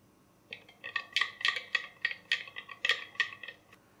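A spoon clinks rhythmically against a glass while stirring sattu sharbat with black salt. The taps come rapid and bright, a dozen or so in an even, brisk pattern up close, with no talking.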